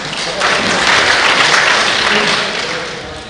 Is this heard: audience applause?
yes